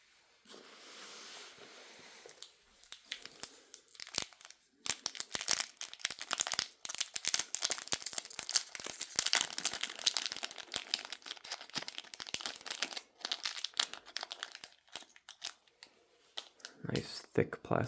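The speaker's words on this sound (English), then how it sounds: "Nice thick plastic bag." Crinkling and rustling of a thick plastic bag as a Gemini 200 Delta 757-200 model aircraft is unboxed, with close, irregular bursts of crackle and brief pauses.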